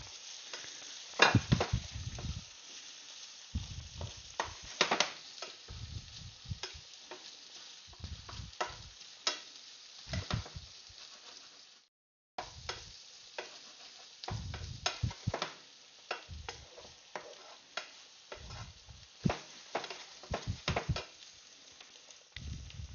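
Onions sizzle and fry in a pan on a stovetop, a steady crackling hiss broken by scraping stirs and spatters, close and fairly quiet, with a brief gap of near silence midway.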